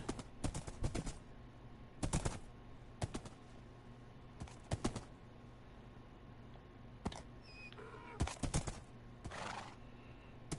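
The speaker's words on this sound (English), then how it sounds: "I want to bring this donkey with me." Donkey and horse in Minecraft Bedrock on PS4 give several short bursts of braying and whinnying, spread across a quiet background with a few clicks.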